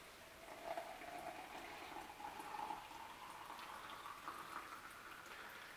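Hot water pours steadily into an Aeropress coffee maker set over a cup, a continuous trickling, bubbling stream of liquid that rises slightly in pitch as the chamber fills, close and moderately quiet with no talking.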